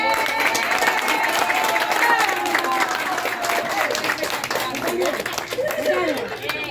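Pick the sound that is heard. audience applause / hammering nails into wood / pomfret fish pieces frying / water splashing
audience applause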